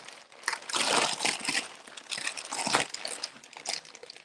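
Crinkly plastic and paper packaging rustles and crunches in bursts as a parcel containing a rugby league shirt is torn open and handled close up.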